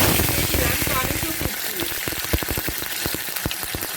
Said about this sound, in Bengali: এবার আমি এই তেলের মধ্যে দিয়ে দিলাম একটু কালো জিরে ফোড়ন